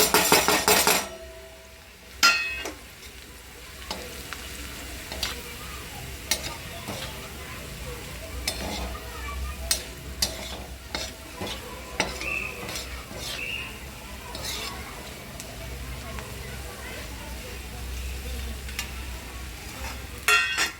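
Onion and spices with amchur powder and a special masala being stir-fried in a pan, a soft sizzle under repeated scraping and clinking of a spoon against the pan, close, with sharp knocks at the start.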